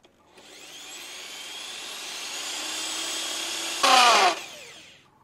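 A Cheston 13mm rotary impact drill whines steadily as its bit bores into a thin sheet, building in pitch, then a brief louder grinding burst as the bit breaks through, before the motor winds down, with no talking.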